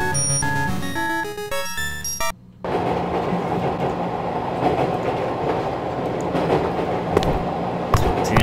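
Train cars rattle in the horror video game Nanashi no Geemu: Me, a steady loud clattering rumble that carries on without a break after a short burst of tonal game music at the start.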